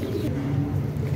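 A pigeon coos softly in low, rolling tones, close up, with a faint steady background and no speech.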